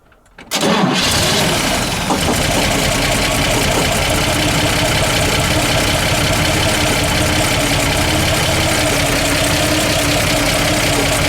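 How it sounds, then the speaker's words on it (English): A first-year 1953 Chevrolet Corvette engine cranks briefly and catches after a short silence, then runs loud and close at a steady, rough roar for the rest of the clip, with no talking. "We'll show them what it sounds like when we start it."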